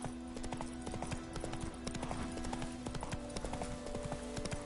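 Roach, a horse in The Witcher 3, gallops with a steady, rapid clip-clop of hooves, close and continuous over a faint tonal background.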